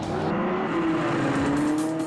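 Drift cars at a Formula Drift competition in Houston scream past with loud, sustained tire squeal and roaring engines, a dense continuous wall of sound up close.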